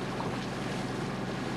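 A stranded boat sits amid dense, steady wash of water and wind, a loud unbroken roar of surf with no distinct engine or voices.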